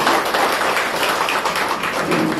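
An audience applauds at the concluding programme of a free cervical cancer screening health project: a dense, even wash of clapping, loud and sustained without a break.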